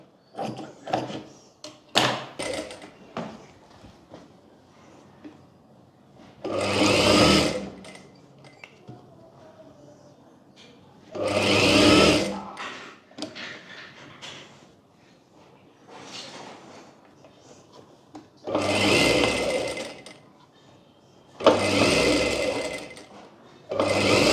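A sewing machine stitches a sleeve onto a princess-cut blouse in loud, close bursts of steady mechanical whirring, separated by quieter pauses filled with cloth handling and small clicks.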